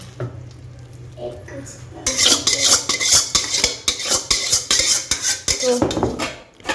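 Cooked lote fish curry is emptied from a pan, with a quick run of metal clanks and spoon scrapes against cookware, close and busy, following a quieter opening of faint background hum.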